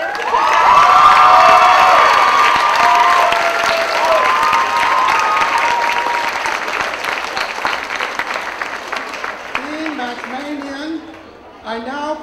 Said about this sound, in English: Let's have a round of applause for all the